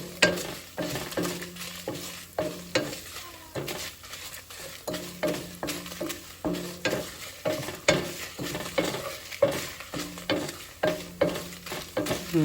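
Tamarind and dried red chillies fry in a pan for an Andhra-style pickle, with a continuous sizzle and rhythmic scraping stirs of a spatula against metal, close-up and without talk.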